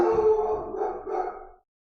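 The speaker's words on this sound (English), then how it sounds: "Apologies, doggo started barking." A pet dog howls and barks indoors in a single drawn-out, wavering burst lasting about a second and a half, fairly close and alone, then silence.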